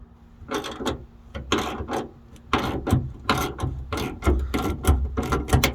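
Ratchet wrench loosening 10mm screws on the rear wiper motor of a Dodge Grand Caravan, with close bursts of ratcheting clicks and rubbing in an irregular rhythm broken by short pauses.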